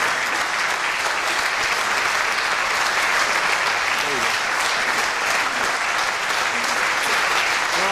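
Sustained applause from a live electronic music concert crowd, a thick, even clatter of many hands with faint voices and murmurs mixed in.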